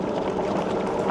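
Juiced Scrambler electric bike running on throttle only near 20 to 22 miles an hour, a steady, even motor whir mixed with rolling road noise, continuous and unbroken.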